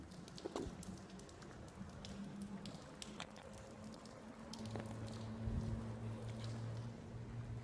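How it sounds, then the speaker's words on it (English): Water drips from a building on a quiet Paris street: faint, scattered drops tap irregularly over a low background hum and soft distant rumbles. "All I hear is the water dripping from this building."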